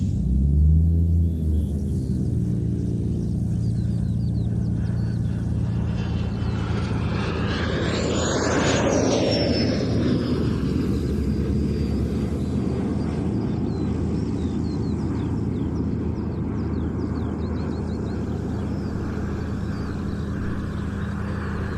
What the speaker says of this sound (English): in from the left, the Swedish Air Force historic flight Saab